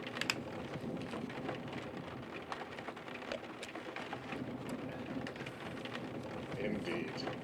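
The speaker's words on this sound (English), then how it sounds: "and then, I hear the sound of rain" Steady video game rainfall patters continuously with scattered sharper drops and a low rumble underneath, moderate and even, no talking.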